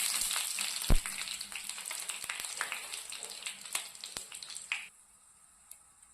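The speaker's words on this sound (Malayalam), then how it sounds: "പച്ചമുളകും ഇട്ട് കൊടുക്കാം" Green chillies fry in hot coconut oil with mustard seeds and curry leaves, a close steady sizzle broken by sharp pops and crackles, then cutting off to near quiet near the end.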